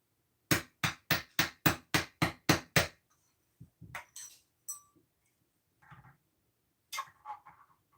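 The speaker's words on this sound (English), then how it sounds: "I need to take this out to the back where the anvil is so I can straighten this piece out" Metal piece hammered straight on an anvil, a quick run of nine evenly spaced sharp strikes followed by scattered lighter taps and clinks with pauses between.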